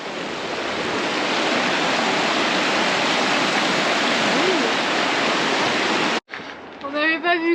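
Waterfall along a hiking trail in New Zealand, a loud, steady broadband roar of rushing water lasting about six seconds before cutting abruptly to brief talking.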